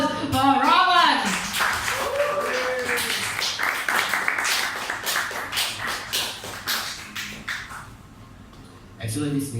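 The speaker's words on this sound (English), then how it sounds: "So let's give a round of applause for Rahman!" A small audience claps for poet S Rahman Liton at a poetry event, a scattered patter of hand claps and taps that runs under mixed voices and tapers off toward the end.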